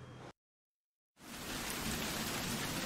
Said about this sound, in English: Isn't the rain beautiful? Yes! It's raining.